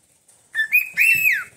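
A pet bird gives a short clear whistle, a brief rising note followed by a longer sliding call that drops at the end, close and isolated against near silence.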